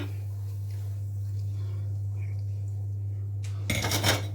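A metal cooking pan set onto a kitchen stove while making sweet laddu, one brief clattering clank near the end over a steady low hum, with no speech.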